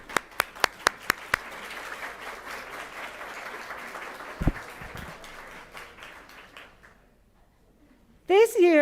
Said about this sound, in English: Please stand and give your family and friends a round of applause.